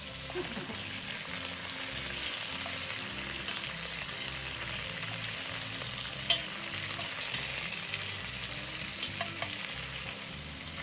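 Pork ribs sizzle and caramelize in a hot pan, a loud, steady, close frying hiss that runs the whole time with only slight variation and one brief sharp pop near the middle.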